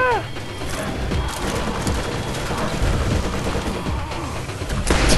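Dense, continuous combat noise from an enemy attack in the video game Borderlands, with gunfire and crashing effects layered into a loud, unbroken wash of sound.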